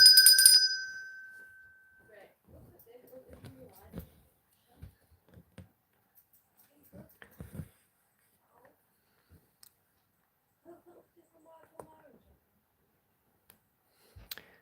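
A single bright bell rung once for a finished stitching project, ringing clearly at the start and decaying over a couple of seconds, followed by faint clicks and quiet shuffling.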